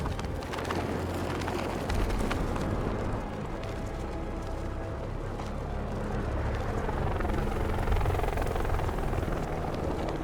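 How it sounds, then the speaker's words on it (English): Helicopter rotor noise from the Batman Arkham Knight video game, a loud, continuous chopping roar that holds steady throughout with no speech over it. "It's nice to have helicopters that aren't trying to kill me."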